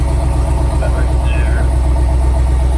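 A GMT800 Sierra 1500HD's 6.0L V8 runs with its exhaust dumped just before the stock muffler, a steady, deep idling rumble heard up close, with a voice briefly over it.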